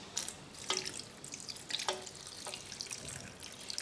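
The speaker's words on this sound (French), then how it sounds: "Maintenant, je vais ajouter de l'eau bouillante." Boiling water is poured into a cooking pot for a quail tagine, giving a close, splashing, trickling stream with bright irregular splashes and drips that ebb and surge throughout, with no voices.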